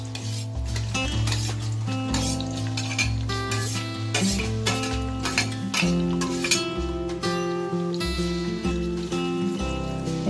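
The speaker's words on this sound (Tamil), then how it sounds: "வெங்காயம் நல்லா வதங்குற வரைக்கும் நல்லா வதக்கிடுவோம்" Onions for chicken biryani sautéed in a pan, with a steady run of spatula scrapes and light clinks against the metal over a continuous sizzle, all beneath prominent background music.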